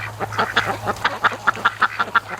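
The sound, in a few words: Muscovy ducks quacking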